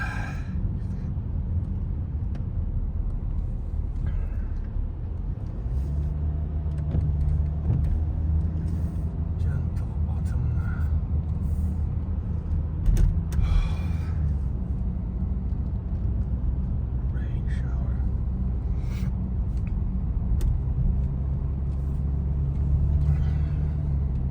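A big truck on a city street in Brest, Belarus, its deep engine rumble droning steadily close by over traffic noise, with occasional voices in the background.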